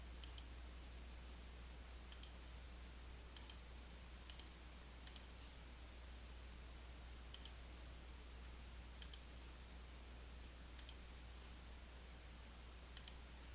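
Quiet, sparse computer mouse clicks while working in Photoshop Elements, mostly in quick pairs spaced a second or two apart over a faint steady hum, with no speech.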